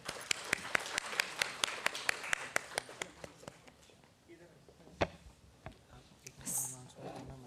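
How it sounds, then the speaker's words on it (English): An audience at an academic curtain-raiser event claps in a quick, crisp burst of individual hand claps. The clapping thins out and fades after a few seconds, leaving room noise and scattered faint claps. "Can we have a big round of applause for them?"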